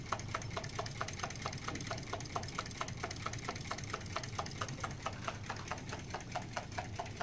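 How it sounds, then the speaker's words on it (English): A small Stirling engine built as a student project runs steadily after its heat source is reapplied, giving off a fast, regular mechanical clatter of evenly spaced ticks over a continuous low hum, close and fairly quiet. "Now we'll reapply the heat source, which should speed the engine back up."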